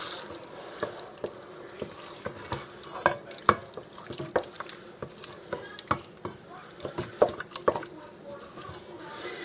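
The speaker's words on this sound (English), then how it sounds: "I'm getting that mixed up in there." Stroganoff ingredients are mixed in a pan with frequent spoon scrapes and clinks over a faint wet sizzle, giving an irregular, busy rhythm close by, with no talking.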